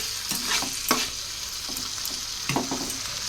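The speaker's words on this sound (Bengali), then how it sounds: "অল্প একটু দুধ দিয়ে কষিয়ে নিচ্ছি।" Fish cooked in spices with coconut milk fries and sizzles in a pan while a spoon stirs it in short scraping bursts, a steady close hiss under the stirring and no voices.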